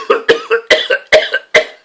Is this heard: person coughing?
yes